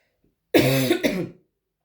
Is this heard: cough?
yes